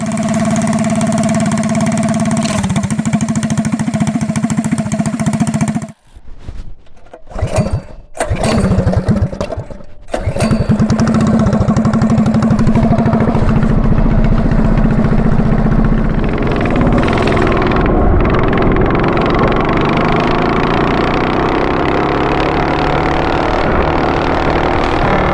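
Ducar DJ170F 208cc generator engine fitted to a Monster Moto 105 80 mini bike runs loud and steady, cuts out briefly with sputtering bursts, then roars back and keeps running under load.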